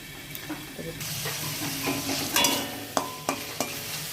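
Spice paste sizzles in hot oil in a pan for koi fish curry while a spoon stirs it, a close hissing fry with several sharp scraping knocks of the utensil.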